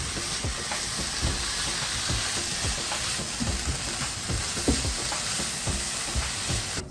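Cabbage stuffing sizzles in a hot pan while it is tossed and sautéed, a steady hiss broken by repeated scraping, stirring knocks.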